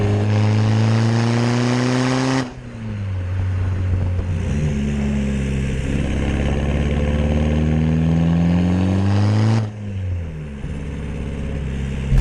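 The 240 bhp hybrid turbo diesel in a Skoda Fabia vRS SE special edition booms loudly and close, its pitch climbing under acceleration, with two sharp drops where gears change before it pulls up again.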